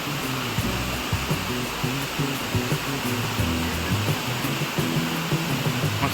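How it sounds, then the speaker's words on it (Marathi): Wagbil waterfall near Savarli village, Badlapur, rushing hard with a steady, loud, broadband roar of falling water throughout, with some low tonal sound mixed underneath. "धबधबा, जोरात वाहणारा धबधबा आहे ते"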